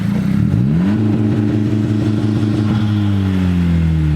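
Honda S2000 engine revving up with a rising, droning harmonic tone that climbs, holds steady with a pulsing rhythm, then eases off as boost builds; loud, close and continuous with no talk over it.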